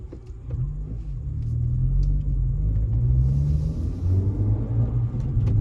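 A 2023 Acura Integra with a manual transmission rumbles steadily at low pitch from inside the cabin, engine note rising gently as it gets going, with no talking.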